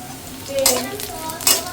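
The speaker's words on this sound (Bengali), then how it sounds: "হালকা একটু ভেজে নিচ্ছি" Dal with cumin and green chilies frying in a home kitchen pan, with a couple of soft stirring scrapes and clinks of a spoon against the pan over a low, steady sizzle.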